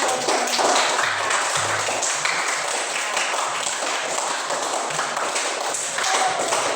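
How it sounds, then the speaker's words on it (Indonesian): A group of students claps hands together in a classroom, a dense, continuous patter of applause held at steady loudness throughout. "Tepuk tangan."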